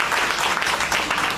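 An audience claps together in a steady burst of applause that holds at an even level for the whole short stretch, with no voices standing out.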